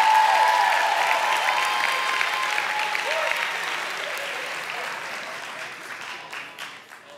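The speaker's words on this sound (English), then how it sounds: "Go ahead and give Jesus a hand clap of praise for that." Church congregation applause as a hand clap of praise: a warm, full burst of clapping that gradually thins and fades, with faint voices and an organ tone underneath.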